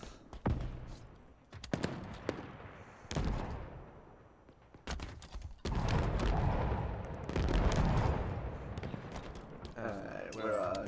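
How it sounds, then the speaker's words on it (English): Rocket launcher blasts in Halo Infinite custom game combat, several loud booming explosions and heavy impacts arriving in bursts across the stretch, with a voice talking at times between the blasts. "I'll take the rocket launcher because that would make things go boom"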